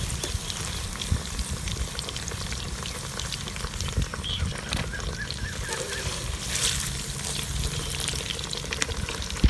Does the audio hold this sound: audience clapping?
no